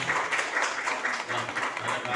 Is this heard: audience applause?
yes